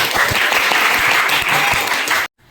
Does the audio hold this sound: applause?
yes